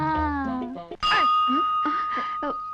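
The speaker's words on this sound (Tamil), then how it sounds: "சிவா, யார் கோயில் மணி அடிச்சது?" A bright metallic temple bell rings out and hangs in the air, its tone sustaining while people talk over it.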